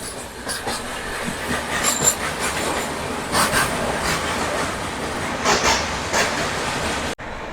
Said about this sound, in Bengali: ট্রেন তার গতিবেগ নিয়ে চলতেই আছে